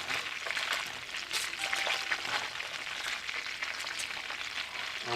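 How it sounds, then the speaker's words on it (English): Chopped onion hits a hot pan in a crawfish pasta dish, giving a steady, soft crackling sizzle that holds evenly throughout with small pops. "We're going to add in our chopped onion to this."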